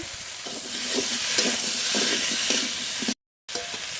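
Tomatoes go into a pan of fried turmeric-and-salt spice masala for a jackfruit and prawn curry. A loud, continuous sizzle carries scraping stir strokes, then cuts out briefly before resuming.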